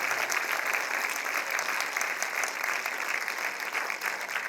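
An audience applauds after a school theatre performance, with dense, even clapping from a large crowd, heard at a slight distance and continuing throughout without any voices over it.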